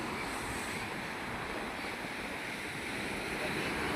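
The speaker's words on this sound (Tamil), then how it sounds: "நாங்கள் கன்னியாகுமரி பீச்சு வந்திருக்கோம் கடலுக்கு" Sea waves break and surge continuously at Kanyakumari beach, a broad steady wash of surf mixed with wind buffeting the microphone, loud and unbroken with no voices.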